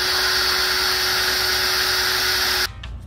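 A power drill bores a hole through a fiberglass car door on an S13 240SX, giving a steady high-pitched whine close by that holds for over two seconds and then stops.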